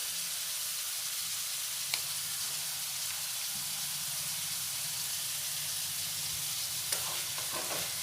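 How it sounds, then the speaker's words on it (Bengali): Vegetables fry in a pan over medium heat for Schezwan pasta, giving a steady close sizzle and hiss with a few faint stirring scrapes and taps. "দিয়ে সবজিগুলো মিডিয়াম আঁচে খুব ভালো করে ভেজে নেব।"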